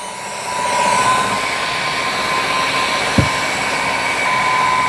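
A Dyson PencilVac cordless stick vacuum runs close by with a steady high whine and airy rush, a faint click near the middle, constant loudness throughout.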